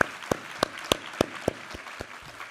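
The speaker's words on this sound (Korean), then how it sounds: "우리 하나님께 감사와 영광의 박수 올려드리겠습니다" Clapping in a church congregation, from a few sharp, distinct claps at a slow, even pace, roughly three per second, close by and moderately quiet over low background hum.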